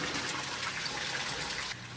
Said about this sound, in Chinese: 仔细看，冲马桶水质略带黄色